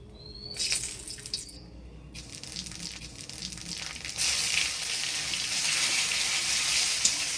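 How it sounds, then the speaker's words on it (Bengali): Dry red chilli, bay leaf, crushed ginger and panch phoron hitting hot oil as a tempering for moong dal, a steady, close, hissing sizzle that grows louder and denser partway through, with no talk. "এবার ডালে ফোড়ন দিয়ে দিব শুকনো লঙ্কা তেজপাতা থেতো করা আদা আর পাঁচফোড়ন"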